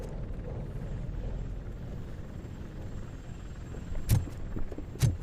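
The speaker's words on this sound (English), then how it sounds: "That's a TV helicopter." A TV news helicopter flying overhead in the video game Robocop Rogue City, a steady low rotor rumble at moderate distance, with two sharp bangs near the end.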